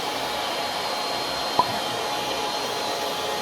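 Electric air pump inflating a bouncy castle, a steady, loud, continuous whooshing drone from close by, with one brief click partway through.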